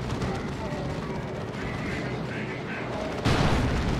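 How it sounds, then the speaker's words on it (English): Heavy gunfire and booming in the Warhammer 40,000: Dawn of War 2 video game, with a double assault cannon firing amid a dense, continuous battle din that jumps louder near the end while a voice talks over it. "Is that double assault cannon?"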